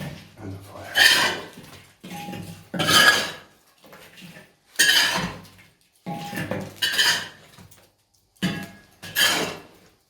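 Metal rings set one after another on top of a metal baking bell lid over a fire, making a series of loud, separate clanks and clinks with short pauses between them.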